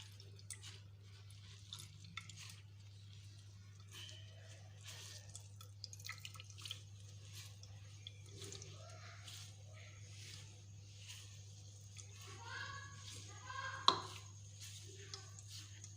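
Water dripping and trickling as grated potato is squeezed in a clean cloth, faint irregular drips and squishes over a low steady hum, with one sharper splash near the end.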